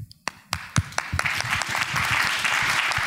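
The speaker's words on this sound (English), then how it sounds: "Let's give our panelists a big round of applause." Conference audience applauding panelists at the close of a C++ standard library panel, with scattered early claps that quickly build into sustained, dense applause.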